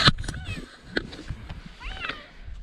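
A cat gives a couple of short meows, fairly close, with rustling and a person's voice in the background, outdoors at Błędne Skały rock formations.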